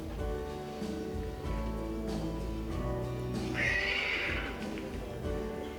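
A horse whinnies in a reverberant indoor space amid low background rumble, with a brief higher-pitched neigh standing out partway through.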